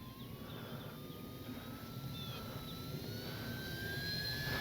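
An FMS Cessna Skylane 182 RC model plane with a 1500 mm wingspan flies overhead at evening, its electric motor giving a thin, steady whine that slowly rises in pitch over a faint outdoor background, with no voices.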